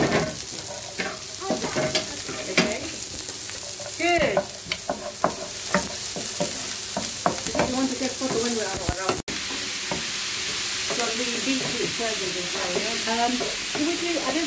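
Onions sizzle and fry in a pan for healthy mushroom burgers, with frequent scraping stirs and clatter throughout; voices talk now and then over the steady frying hiss.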